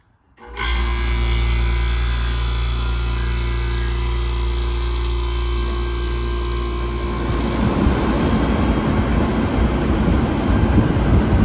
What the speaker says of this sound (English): here we go with the compressor